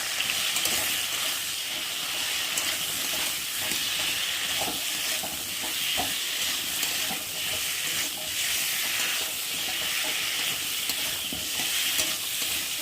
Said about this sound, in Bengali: নুন, হলুদ গুঁড়ো আর অল্প করে লঙ্কা দিয়ে মশলাটা ভালোভাবে কষিয়ে নেব।